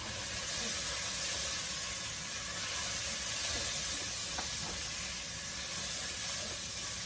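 Onions and vegetables seasoned with onion powder fry in oil in a pan as they are stirred. A steady, close sizzle and hiss holds throughout, with faint stirring knocks and no talking.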